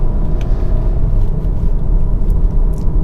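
Loud, deep, continuous rumble from a 2019 Audi Q3 accelerating hard in third gear, heard up close with no speech.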